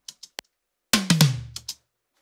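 Sampled tom-toms from the Abbey Road Modern Drummer library: three quick soft taps, then a cluster of several resonant, booming tom hits that ring out and decay, followed by two lighter strikes, played alone.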